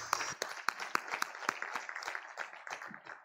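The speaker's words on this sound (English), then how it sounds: "all of you deserve a big round of applause for your patience" Scattered applause from a conference audience, a spread of sharp individual claps rather than a dense ovation, fairly close and thinning out toward the end.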